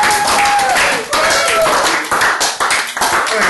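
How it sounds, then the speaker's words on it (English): An audience claps for the last group at a grade 10 exam exhibition, with close, fairly loud bursts of clapping, brief gaps between them and voices mixed in. "can we give the last group a round of applause?"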